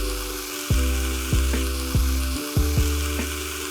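Sukuma wiki greens fry under a constant loud sizzle while a utensil knocks against the pan about six times in a loose, steady rhythm, close up with no voices.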